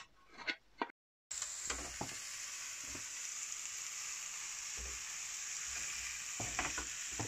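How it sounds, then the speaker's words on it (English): Steak and mushrooms in a griddle pan on a narrowboat stove: a steady, close sizzle hissing throughout, with a few soft clicks and scrapes of cooking utensils. "This is the griddle pan in use."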